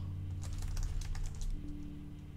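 Quick bursts of keystrokes on a computer keyboard as code is typed in, a steady close run of clicks over a low background hum.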